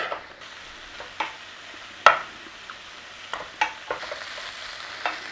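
Onions fry in butter in a pan for an Irish cabbage, bacon and mashed potato casserole, with a soft steady sizzle broken by several sharp scrapes and clacks of stirring, one loud knock near the middle.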